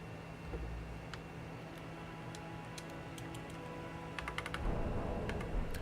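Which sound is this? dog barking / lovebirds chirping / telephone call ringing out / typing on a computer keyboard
typing on a computer keyboard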